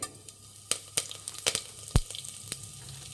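Mustard seeds and cumin sizzle in hot oil in a pan, a soft steady crackle with scattered sharp pops and spits through the clip.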